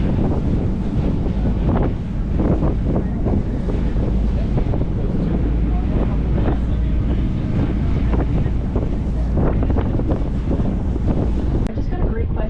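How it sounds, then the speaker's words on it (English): A whale-watching boat moving over water off Maui, Hawaii, with a constant low engine rumble, wind buffeting the microphone and splashing waves throughout. "so we hopped on our boat"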